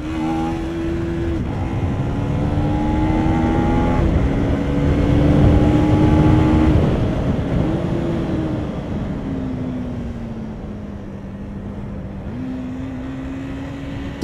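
A KTM Duke 250 motorcycle accelerates hard, its engine note climbing through the gears with several pitch drops at each shift, loud and close with strong wind rush throughout.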